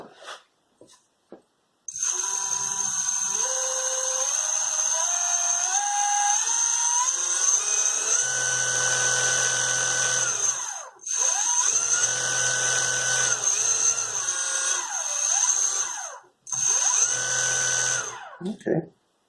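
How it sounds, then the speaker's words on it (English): A car alternator used as a motor on a DIY e-bike, powered by Lipo batteries and a cheap Chinese controller, spins with a high whine that rises in pitch, cuts out briefly twice and restarts, close and loud. "So that should now spin this other motor, which is still attached to the back of the bike."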